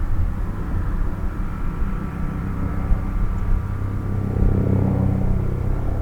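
A helicopter flying in the distance makes a steady low rumbling drone near Lucky Peak Reservoir, faint and continuous, with no voices over it.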